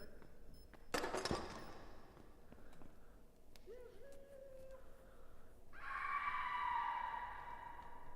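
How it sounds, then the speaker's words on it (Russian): A scream from the horror video game Forewarned, a sharp loud burst rising out of quiet game ambience, followed later by a sustained higher tone. "Опять крик был."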